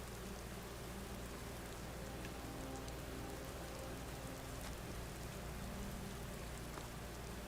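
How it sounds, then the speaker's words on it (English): Steady rain falls in the video game Skyrim, a continuous even hiss of drops that holds at the same level throughout with no voices over it. "Oh, look at that! It's raining in Sky."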